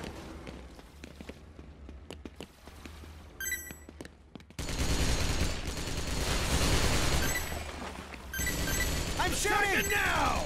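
Heavy gunfire in Earth Defense Force 5, where sparse shots and mechanical clicks give way to a loud sustained barrage of rapid fire mixed with game noise and voices talking over it.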